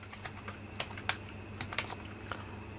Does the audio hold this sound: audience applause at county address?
no